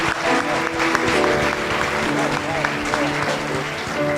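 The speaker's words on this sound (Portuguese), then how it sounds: "A igreja aplaude a Jesus." A church congregation applauds during a worship service, steady clapping running throughout, with voices and a sustained musical tone continuing underneath.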